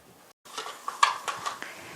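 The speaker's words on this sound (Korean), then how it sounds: "아이들 안 먹는 야채 충분히 넣으셔서 잘 섞어주세요" A utensil stirs strained egg mixture with chopped vegetables in a bowl, making a few light clinks and scrapes in quick succession close by, with no talking.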